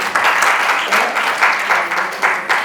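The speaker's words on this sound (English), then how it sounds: "Big round of applause for you." A crowd at a Mother's Day celebration claps steadily and loudly, a dense wash of applause with a few swells in intensity and no pauses.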